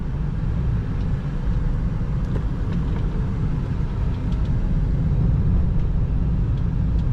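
A 2013 Toyota Prius C 1.5 hybrid drives along a road, heard from inside the cabin as a steady, smooth low rumble of engine and tyre noise with no talking.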